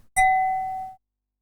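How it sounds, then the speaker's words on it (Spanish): Struck wine glass giving one clear, bright ding that rings with pure sustained partials for under a second, then cuts off abruptly; near and alone. "y yo grabo ese tono de la copa."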